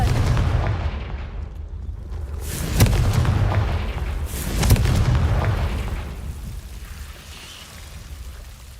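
Confringo explosive spell blasts in the video game Hogwarts Legacy, two sharp booming impacts with rumbling low tails, heard alone with no talking.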